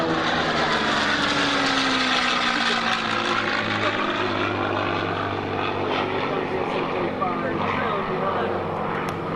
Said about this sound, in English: A high-speed pass, the P-40 and the P-51, two World War II vintage aircraft.